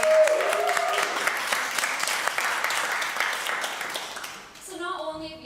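A crowd at a search marketing awards ceremony claps steadily, the applause staying dense and loud before fading, and a presenter's voice comes in at the end.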